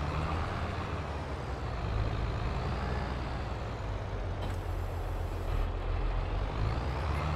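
Truck air brakes in the Farming Simulator 22 video game, a steady loud engine rumble with a brief hiss of released air partway through, no voices.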